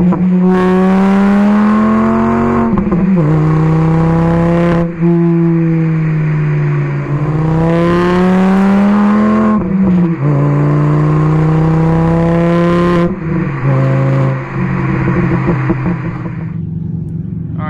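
A 2007 Volkswagen Jetta with an AWE aftermarket exhaust revving repeatedly, close and loud, the engine note climbing and dropping in several long sustained pulls with a throaty, resonant drone and no talk.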